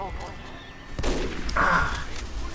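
Gunfire and rocket blasts in a team shooter game, where a burst of rapid shots and a loud explosive crack fill most of the moment, dense and close, with faint voices mixed in.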